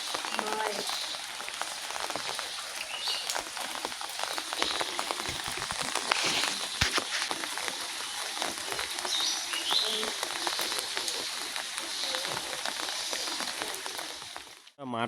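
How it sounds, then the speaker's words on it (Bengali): Rain falls steadily in a village, a dense hiss of drops spattering on surfaces that continues evenly throughout at moderate loudness. "বৃষ্টি তো হইতে আছে সব সময়"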